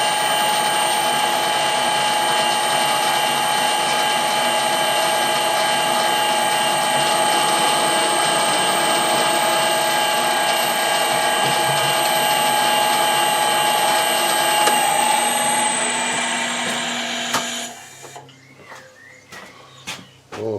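A metal lathe takes a light scratch pass while threading a core drill arbor extension. It gives a steady, close whine with a high tonal ring, then winds down near the end into a few faint clicks and knocks.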